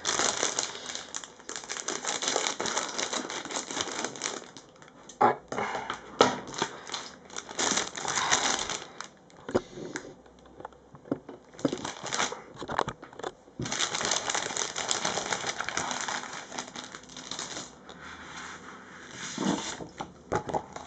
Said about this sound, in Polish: wziąłem sobie nożyczki, aby to otworzyć.